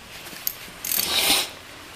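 A 10 mm ratchet wrench tightens the positive battery terminal on a wheelchair during a battery swap, giving a short burst of clicking ratchet strokes, close and fairly loud, after a single faint click.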